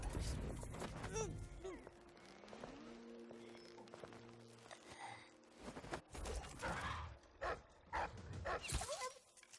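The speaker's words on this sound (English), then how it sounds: "She's got a dog with her." A dog in Dishonored 2 gives a few short barks and yips among game ambience and musical tones, fairly quiet and intermittent, with a person talking faintly in between.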